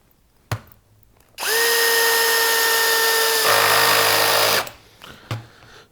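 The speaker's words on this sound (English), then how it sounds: "as we drove that drywall screw" A Skil PWRcore12 drill on clutch setting 1 drives a drywall screw, a loud high motor whine running steadily for about three seconds and dropping lower near the end, bracketed by a few light clicks.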